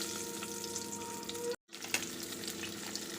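Pointed gourd (potol) pieces frying in hot oil after eggplant, a quiet, continuous crackling sizzle with a faint whine, briefly dropping to silence midway before the frying resumes with a few louder pops.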